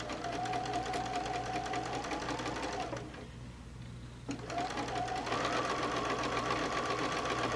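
A sewing machine running a regular straight stitch on knit fabric, a steady close mechanical whir that pauses briefly midway and then resumes at a slightly higher pitch, with no voices.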